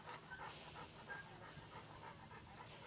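A very large dog pants in quick, rhythmic breaths, faint but close, with no one talking.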